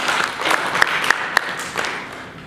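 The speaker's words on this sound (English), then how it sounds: "I think they deserve a round of applause." An audience at a United Nations conference side event applauds in a steady, moderately loud wash of clapping, with a few sharper individual claps standing out before it gradually fades.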